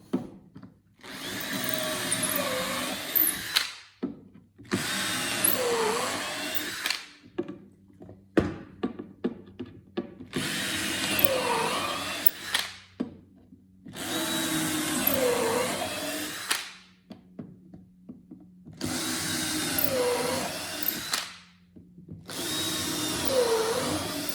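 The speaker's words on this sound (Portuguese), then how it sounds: "Já fazer todos os furos primeiro." Power drill boring a series of holes in wood for a table saw cutting jig, several loud whirring bursts separated by short pauses, close by and without speech.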